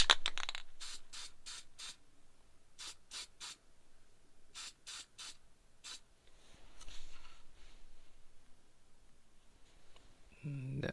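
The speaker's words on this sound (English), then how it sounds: "I'm gonna spray it again" Short hissing bursts from a spray can of adhesive, about a dozen quick sprays in small clusters with brief pauses between, close and fairly quiet.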